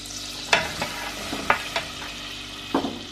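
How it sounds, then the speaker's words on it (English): Onions fry in melted butter in a pan, a soft sizzle under a few sharp stirring clatters spread across the moment. "now we shall add in the onions and we shall fry them in the butter until they are soft"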